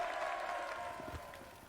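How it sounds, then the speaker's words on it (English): A crowd applauds for the knight Sir Loras at a Game of Thrones tournament, a steady wash of clapping heard faint and distant throughout. "I'm sure they're clapping for Sir Loras, whatever, Knight of the Flowers"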